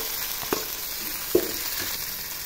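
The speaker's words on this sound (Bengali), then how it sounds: "তো টমেটোগুলো ভালো করে ভেজে নেবো" Chopped tomatoes fry with onion, garlic and turmeric in a pan for a green pea dal, giving a steady close sizzle broken by a couple of soft clinks from stirring.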